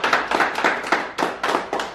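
A small group applauds right after a baptism, with quick, dense, close-up hand claps that carry on steadily through the moment and have no talking over them.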